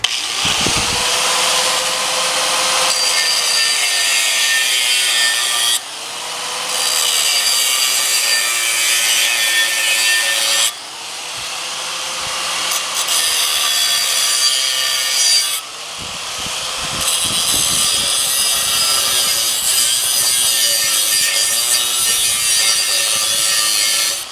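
A grinder works on a car body mount on a 4WD Dodge Daytona, whining steadily and close with a gliding pitch across several long passes, with brief pauses where the tool lets up.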